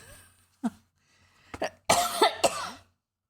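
A man coughs from indigestion: a single cough, then several more in a rough cluster, with throat-clearing, close to the microphone in a quiet room, no talk during it.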